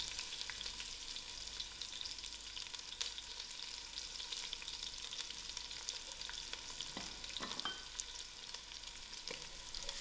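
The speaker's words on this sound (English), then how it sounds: "My oil is heated up, so I'm just going to add in my onions to it." Onions frying in hot oil, a dense, even crackle and hiss throughout, with a few faint clinks near the end and no talking.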